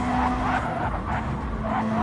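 Race car skidding loose off a corner in a racing video game, a continuous tire scrub with a steady engine tone running through the whole stretch, fairly loud.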